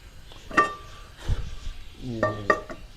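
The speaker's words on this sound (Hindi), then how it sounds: "हमने फ्राई पैन ऊपर रखा इसमें पे गर्म होने के लिए।" A frying pan is set onto a lit stove burner to heat while mutton goat paya is being prepared: two sharp metallic clinks with ringing overtones, separated by softer scraping and knocking of metal against the grate.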